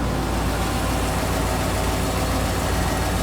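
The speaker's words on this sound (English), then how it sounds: "The engine RPM is still at idle." A steady engine idles at constant low RPM under load, giving a continuous dense rumble and broadband hiss with no change in speed and no talking.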